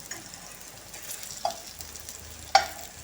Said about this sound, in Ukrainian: І смажимо до золотистої скоринки з іншої сторони.